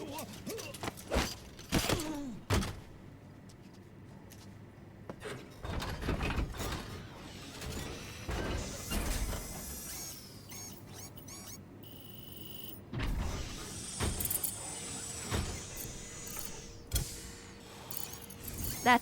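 A Walker Gear, a single-pilot bipedal machine from Metal Gear Solid V, clanks and whirs as it moves, with irregular metallic thuds, servo whines and ratcheting creaks near and far, some louder mechanical bursts toward the end.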